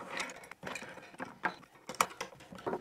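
Router table fence fasteners on a Veritas compact router table are tightened down in a series of short ratcheting clicks and metallic turns, quiet and close, separated by brief pauses.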